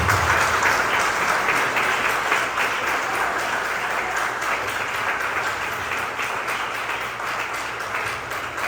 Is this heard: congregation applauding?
yes